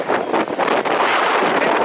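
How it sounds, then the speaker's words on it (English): Strong wind buffets the microphone at an outdoor demolition derby in Dresden, Ontario, a loud continuous roaring rumble with gusty surges and no voices. "I know you guys are hearing that wind sound"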